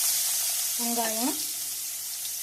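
Onions sauté in oil after mustard seeds and cumin have popped, giving an even, steady hiss with a short tonal squeak partway through.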